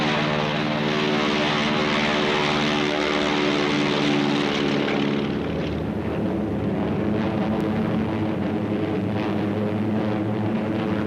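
World War II P-38 Lightning fighter planes drone steadily overhead, a loud, continuous propeller-engine roar that shifts in pitch partway through as the aircraft pass, with no voices.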